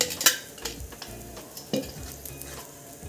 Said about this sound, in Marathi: आता ह्या साईडनं पण आपल्याला असं तेल सोडायचं आहे